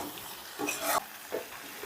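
Sugar is stirred into bean curry cooking in a pan, a soft scraping and stirring with a few brief louder swishes over a low, steady sizzle, close and fairly quiet.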